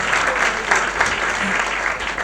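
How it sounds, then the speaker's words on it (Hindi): Crowd at a youth festival gathering applauds loudly and steadily, a thick continuous clapping with faint voices underneath. "एक बार जोरदार तालियां आप सभी के लिए"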